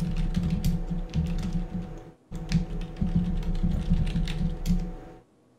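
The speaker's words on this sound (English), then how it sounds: "I'm going to just type it in here." Rapid keystrokes clatter on a computer keyboard in two close bursts separated by a brief pause, then stop, with no voices present.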